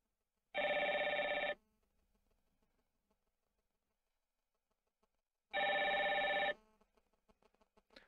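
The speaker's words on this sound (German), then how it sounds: "So, Sie sehen, der Ruf geht ein." Two loud bursts of an electronic telephone ring from an incoming call on a FreePBX/Asterisk phone system, each lasting about a second, separated by a long quiet gap.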